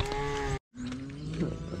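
Cattle moo close by, in a sustained lowing call that breaks off briefly before a second long moo, with a calf beside its mother as the last cow passes through a gate on a farm.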